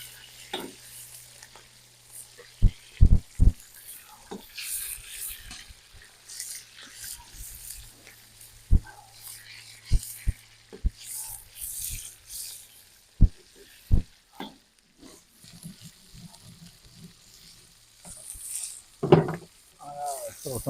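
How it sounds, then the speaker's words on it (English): Onions frying in a pot for plov with goat meat and rice. A faint, patchy sizzle sits under sharp, scattered clatters and scrapes of stirring, with a few loud knocks and a brief voice near the end. "So we're gonna throw onion in there and start cooking on it."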